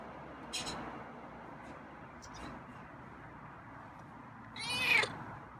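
A feral cat gives a brief meow near the end after a few faint rustles, close and moderately loud against a quiet room.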